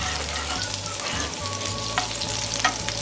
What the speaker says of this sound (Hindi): सेम ऑयल में गार्लिक, जिंजर और ग्रीन चिली ऐड कर दिया। पहले हाई फ्लेम में 1 मिनट फ्राई कर लेती हूँ।